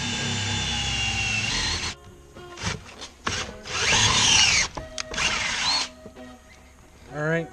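A power drill bores through the front panel of a truck, running in several loud whining bursts with pauses between them and high-pitched grinding as the bit cuts, heard close up.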